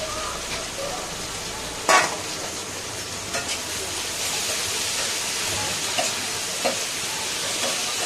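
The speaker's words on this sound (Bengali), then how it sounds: "দিয়েছি কড়াইতে পেঁয়াজ এবার যা যা আছে পেঁয়াজটা একটু ভাজা ভাজা হলে" Onions fry in oil in a wok, a steady faint sizzle with a few sharp scraping stirs and clicks scattered through it.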